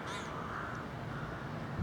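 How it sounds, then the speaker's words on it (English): Rooks caw from a rookery by Amberley station in West Sussex, a faint, rough chorus of calls over steady outdoor background noise. "Rooks in a group, crows on their own. So they're rooks."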